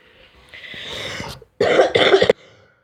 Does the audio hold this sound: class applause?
no